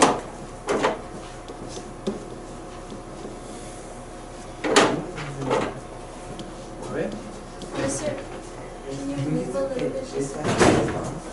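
A door is closed in a room during a physics lesson. Several sharp knocks and thuds stand out against room noise, with people talking around them.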